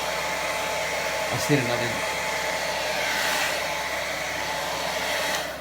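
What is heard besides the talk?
hair dryer drying a beard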